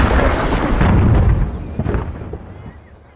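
An artillery cannon fires with a heavy, loud boom, and the broad rumble rolls on and slowly fades over a few seconds.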